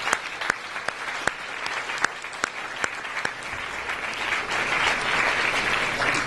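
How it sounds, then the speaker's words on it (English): Audience applause at a geoscience student reception, opening with sparse separate claps that swell into steady, dense clapping from a sizable crowd, moderately distant. "give an extra round of applause for these 5 people on the screen"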